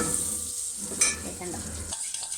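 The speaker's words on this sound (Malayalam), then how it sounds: "എന്നിട്ട് നല്ലോണം ഇളക്കി കൊടുക്കാം" Chili curry with fenugreek powder being stirred in a pan, a soft steady scraping and sizzle close by that carries on for a couple of seconds, ending with a brief clink.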